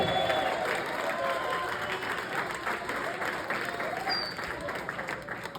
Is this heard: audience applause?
yes